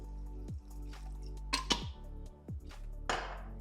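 Water splashes and drips into a pot of mint rasam in several quiet, uneven bursts, with soft liquid gurgles between them.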